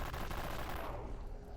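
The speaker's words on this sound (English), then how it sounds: "I absolutely hate SMGs in this game." Rapid, dense SMG gunfire in the video game Dead Frontier crackles as a continuous burst of overlapping shots, loud and close, fading slightly toward the end.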